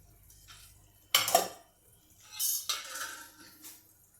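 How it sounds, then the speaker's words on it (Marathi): Radish aamti stirred in a pot, with a few brief metallic scrapes and clinks of a spoon against the vessel separated by quiet gaps, heard close and soft. "आता याला थोडंसं हलवून घेऊया"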